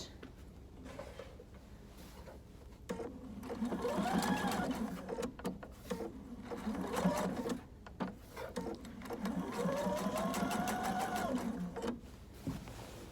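A sewing machine stitches an inner leg seam at 15 seam allowance with the needle kept down, running in several steady bursts of whirring and mechanical chatter with short pauses between, close and clear without talk.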